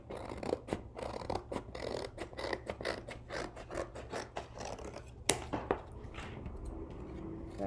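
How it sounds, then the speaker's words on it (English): Scissors snip steadily through cardboard with a quick, repeated crunching rhythm, close and fairly quiet, with no talking over it. "I'm gonna start cutting out around my cardboard."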